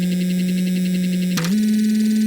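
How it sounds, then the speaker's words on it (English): Low synthesized servo hum built in Phase Plant, a steady buzzy tonal drone with harmonics that briefly dips and shifts slightly higher partway through, alone without speech. "You can hear a very nice, like low hum almost."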